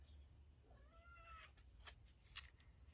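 A female pet cat cries with a few soft, drawn-out meows, quiet and slightly distant, over a low steady room hum while someone works on a handmade Christmas card.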